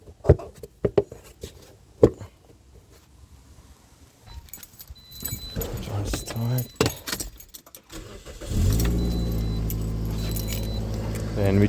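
A Toyota Matrix is started after its thermostat has been replaced: keys jangle and clatter near the ignition, then the engine catches at about 8.5 seconds and settles into a loud, steady idle.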